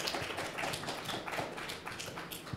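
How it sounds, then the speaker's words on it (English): A comic con evening plenary audience applauds a panel of artists with faint, scattered clapping and taps that stay low and uneven throughout. "I wanna give a warm round of applause"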